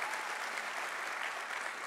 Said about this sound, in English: someone give a clap offering of praise to God